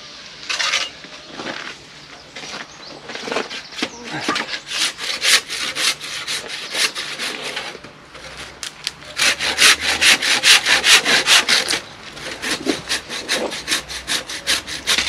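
Building blocks for a summer house are cut by hand with a saw, giving rapid rhythmic rasping strokes close by in bursts with brief pauses, growing busier and louder in the second half.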